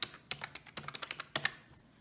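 Numbers being keyed into a calculator or computer keyboard: about a dozen quick, close plastic key taps in an uneven rhythm, with a few closely spaced pairs, and no voices.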